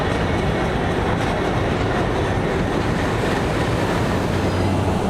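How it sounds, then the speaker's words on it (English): A train arrives at a station in India, a loud continuous rumble of rolling wagons with rhythmic clatter of wheels on the tracks and a faint squeal underneath. "Train's here."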